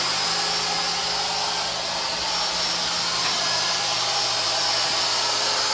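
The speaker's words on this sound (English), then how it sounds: "You can see the router's going to start spinning up there." An Inventables X-Carve CNC router spindle runs at speed with a steady high whine and airy hiss, constant and fairly loud throughout, with no one speaking.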